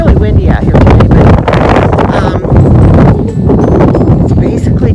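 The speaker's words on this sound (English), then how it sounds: "it's really windy out here today" Strong wind buffets the microphone in an open meadow at Meadow Hot Springs, Utah, with a loud, continuous low roar and rumble, steady throughout with brief gusting surges.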